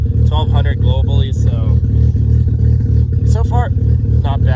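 A Mazda FC RX7 rotary engine idles around 1100 rpm with a steady low rumble and pulsing thrum, heard close under someone talking throughout.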